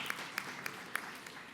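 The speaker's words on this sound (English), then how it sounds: "I heard someone clapping on that." At a convention's official opening, a few distinct, sharp claps ring out at irregular intervals over a quiet room murmur, faint and somewhat distant rather than a full crowd ovation.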